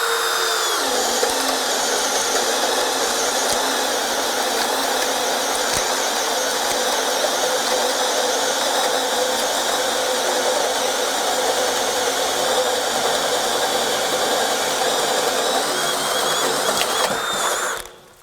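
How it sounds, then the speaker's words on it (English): A Kobalt Gen 3 24V brushless drill spins a bit as it chews through material, a sustained high whine held nearly constant for about seventeen seconds before winding down, close and loud with no speech. "we're able to take this drill bit and just chew through this"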